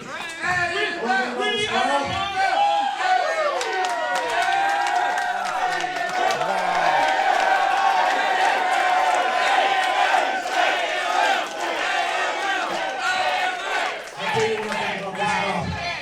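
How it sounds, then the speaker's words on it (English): A wrestling arena crowd at an AML Wrestling TV event in the South roars and chants continuously and loudly, with shouts and whoops layered throughout and talk mixed in. "What do you think about the crowd here at the AML Arena?"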